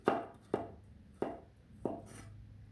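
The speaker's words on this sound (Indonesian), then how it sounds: "ini wortelnya diiris tipis-tipis aja supaya nanti lebih gampang matang ya" A knife cuts thin slices of carrot on a cutting board, four crisp chopping strokes spaced about half a second apart, close and clear with no talk.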